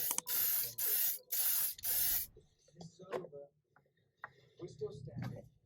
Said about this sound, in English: we're going to put it into the spray booth and give it a spray